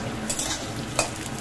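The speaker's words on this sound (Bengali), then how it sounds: "আলুটা যখন ভাজা হচ্ছে," Potatoes frying in a pan, a close steady sizzle broken by quick stirring scrapes of a utensil against the pan.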